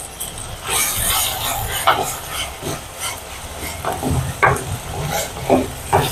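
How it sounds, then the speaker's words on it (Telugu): Onions and tomatoes fry with curry leaves for a Nellore fish curry, hissing loudly and continuously up close while a utensil scrapes and stirs the pan in irregular strokes, with no talking. "ఇలా ఆనియన్స్, టమాటాలు 2 మినిట్స్ పాటు వేగాలండి."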